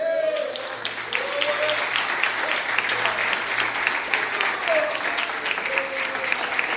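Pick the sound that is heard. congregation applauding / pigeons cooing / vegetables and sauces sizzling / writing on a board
congregation applauding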